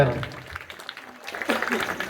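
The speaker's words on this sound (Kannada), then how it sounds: "ಜೋರಾದ ಚಪ್ಪಾಳೆ ಬರಲಿ" An audience at a commemorative event gives a brief burst of clapping that swells near the end, heard beneath a voice talking over it.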